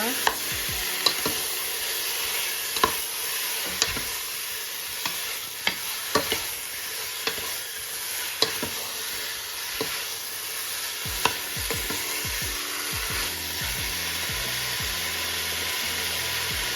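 A spoon stirs Cameroonian egusi (pistachio) stew in a pot, giving a steady sizzle and hiss punctuated by regular scraping clicks and knocks, close and continuous.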